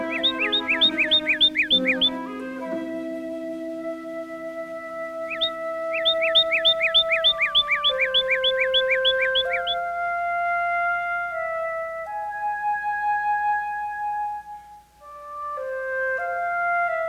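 Backyard birds chirp in quick, repeated bursts of high, bright trills, loud and close. Soft tonal music plays beneath them, and the calls return after a pause.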